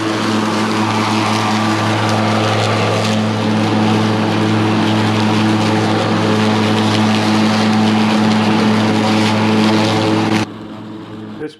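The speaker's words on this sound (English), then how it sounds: "This push mower is probably the easiest push mower to push that I've ever had." A push lawn mower runs in a steady, close droning hum with no let-up, then cuts off abruptly near the end.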